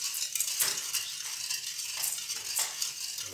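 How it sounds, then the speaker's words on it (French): Sugar melting for almond nougat is stirred in a pan, with soft rhythmic scraping sweeps and a gentle hissing sizzle, close and fairly quiet. "On remue."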